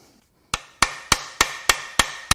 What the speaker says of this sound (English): I'm going to hammer this between the rod and the crank.